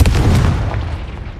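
A Confringo spell explosion in the video game Hogwarts Legacy: one loud, close boom at the start that rumbles and slowly fades, heard alone.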